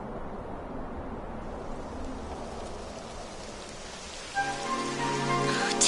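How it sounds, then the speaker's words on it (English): Rain begins in the video game Dragon Quest XI S, a steady close hiss of falling drops that swells slightly toward the end as a soft tonal sound rises behind it. "It would have to go and start raining, wouldn't it?"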